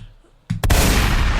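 A single gunshot sound effect bursting in after a brief quiet, a sharp crack followed by a loud sustained roar.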